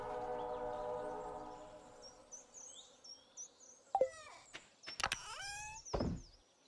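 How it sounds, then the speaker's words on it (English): A train passes in the Stardew Valley video game: a quiet, steady tonal rumble fades out, followed by a few sharp clanks and chirping, whistle-like tones near the end. "There's a train, that's interesting."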